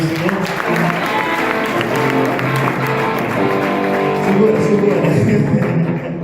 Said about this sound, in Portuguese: Se você crê, aplauda mais uma vez